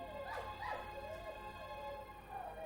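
A wounded dog lying by a water channel whimpers and cries, several faint, high, wavering whines rising and falling over a steady low background hum.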